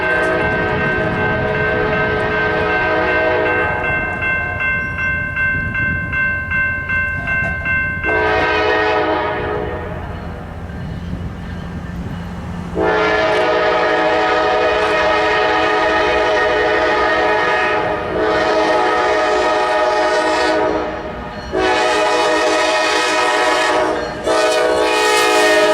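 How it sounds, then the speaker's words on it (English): NS 385, a daily manifest freight train on the 3B North District near Bessemer, Alabama, blasts its air horn in several long, loud sequences with short gaps as it slowly approaches, rumbling steadily underneath. "385 then slowly approaches over the hill, sounding its horn through the town of Bessemer."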